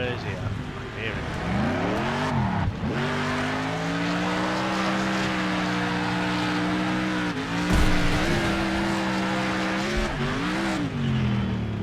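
Car engines in Next Car Game rev and whine, their pitch sweeping up and down as the cars reverse and skid, a continuous loud mechanical drone.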